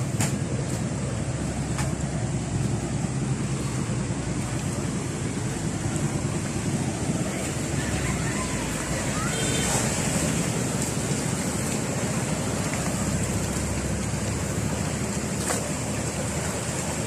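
Broad continuous rush of floodwater in a swollen river at Cogon and San Joaquin Bridge, steady and loud with wind-like hiss throughout, no voices.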